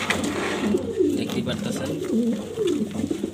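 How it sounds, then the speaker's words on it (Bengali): A pair of grizzle racer pigeons, a male and a female, coo in a loft cage, giving soft repeated throaty coos close by while someone talks over them. "আজকে দেখতে পারতেছেন আনকমন এক জোড়া গ্রিজেল, রেসার গ্রিজেল"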